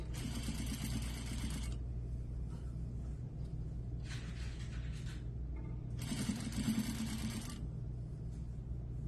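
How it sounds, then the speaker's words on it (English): A sewing machine runs in two or three bursts of rapid mechanical stitching, each a second or so long, while it sews a number 2 stay stitch on the facing of a Peter Pan collar near the neckline, over a steady low hum. "I am stitching at a 1/16 of an inch away from the connection seam"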